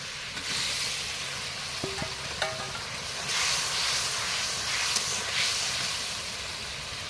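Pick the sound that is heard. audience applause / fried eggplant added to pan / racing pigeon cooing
fried eggplant added to pan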